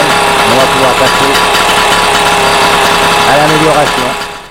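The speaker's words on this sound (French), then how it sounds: "Donc le moteur tourne bien" A Solex 3800 moped's small engine idles steadily close by, a buzzing, rhythmic putter that holds even for several seconds before fading away at the end.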